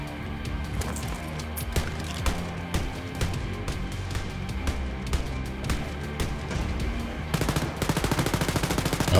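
Rapid automatic gunfire from a first-person shooter, Wolfenstein: Youngblood, rattles continuously in steady bursts, ending in a faster, denser volley of shots.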